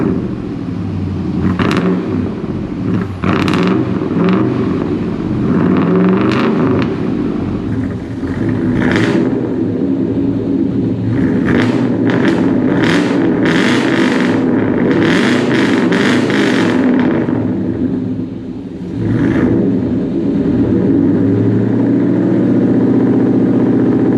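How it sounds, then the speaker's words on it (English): Chevrolet K1500 pickup with a straight-piped exhaust and its catalytic converters removed, rumbling loud and close with a steady throaty idle broken by a series of sharp revs, no voices. "Maiden voyage with the new setup on the exhaust."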